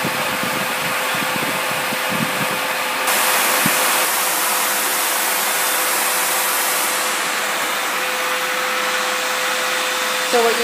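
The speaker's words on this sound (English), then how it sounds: "you turn off your little hand vac" A small handheld vacuum runs steadily for about ten seconds while sucking up wasps from a nest in a lamp, a constant motor whine with a slight rise in pitch partway through and some low rustling early on.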